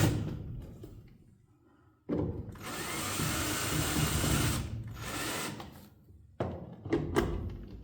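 A power screwdriver drives screws to refasten the inducer fan on a York furnace, with two sustained whirring runs separated by a pause, ending in short bursts and thunks, close up.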